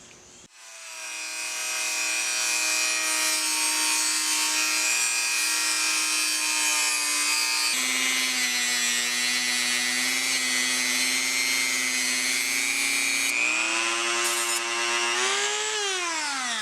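A power tool cuts a metal part to length for a gear pump repair, a loud, steady high-pitched whine held for about fifteen seconds, dipping briefly midway and rising in pitch at the end as the cut finishes.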